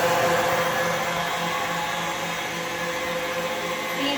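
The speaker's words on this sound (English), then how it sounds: "we're going to go back to mixing that on high till we get a nice" An electric mixer runs on high speed whipping meringue, giving a steady, loud whirring drone with no breaks and no voices.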